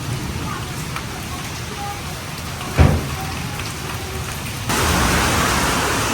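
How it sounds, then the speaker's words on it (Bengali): Heavy continuous rain pours down in a village during the rainy season, a dense unbroken hiss with one brief thump partway through, swelling slightly louder toward the end. "কি পরিমাণে বৃষ্টি হইতেছে সকাল থেকে আমরা এদিকে"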